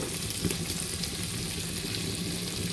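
Curry leaves sizzle and crackle in hot oil as they are stirred for a Kottayam-style mackerel curry, a steady close frying hiss with small pops.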